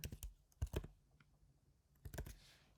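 A name is typed into a form on a computer keyboard: soft, close key clicks in two quick clusters separated by a short pause, faint and alone.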